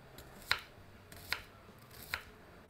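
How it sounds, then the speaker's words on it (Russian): Three crisp, evenly spaced knife cuts slice an onion into rings on a cutting board, quiet and close, with faint background hiss between them. "Лук я также нарезаю кольцами."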